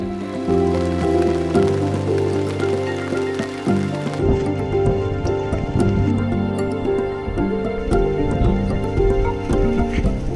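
Heavy rain pours down on a hillside trail descending toward a dragon statue in Ninh Binh, Vietnam, a dense, continuous hiss close by, mixed with music and a brief quieter dip partway through.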